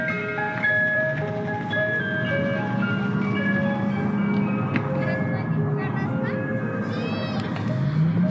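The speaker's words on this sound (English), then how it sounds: "Stupid ice cream truck." An ice cream truck's jingle plays steadily throughout, a tinkling melody repeating over a constant background hum of street noise, fairly near and continuous without a break.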